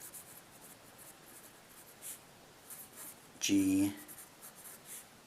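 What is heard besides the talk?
writing equations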